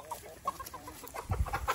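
Farm chickens cluck softly in a short burst of scattered, faint calls close by, with a low bump of handling noise near the end.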